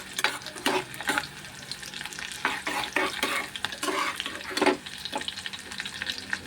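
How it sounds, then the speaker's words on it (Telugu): Onion and green chili pieces frying and being stirred in a pan for prawn curry, a steady close sizzle broken by repeated scraping stirs, with no talking. "ఉల్లిపాయ ముక్కలు, పచ్చిమిరపకాయ ముక్కలు అయితే వేసుకుని వేగించుకోవాలి"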